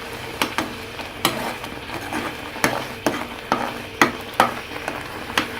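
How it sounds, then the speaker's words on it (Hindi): A spoon stirs thick falsa (grewia) chutney in a hot pan, with a faint sizzle beneath a run of sharp, irregular scrapes and clinks against the metal. "इसको एक दफ़ा से फिर चम्मच चला लेंगे"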